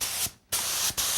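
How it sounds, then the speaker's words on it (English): A spray gun mists wood finish onto the legs of a small cherry stool in two hissing bursts, with a sharp pause and a brief break between passes, close and steady. "So on this little cherry stool, I'm spraying the legs"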